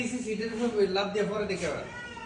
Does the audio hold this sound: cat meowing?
yes